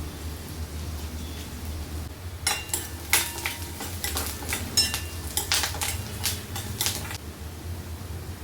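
Curry leaves dropped into hot oil with onion for a Marathi aloo methi matar curry, giving a burst of crackling sizzle and metal spoon scrapes against the pan after a quiet low hum, moderately close.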